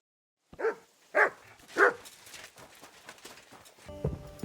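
Three sharp dog barks in the video game Kingdom Come: Deliverance II ring out one by one, spaced about half a second apart, followed by light rustling and a faint musical tone.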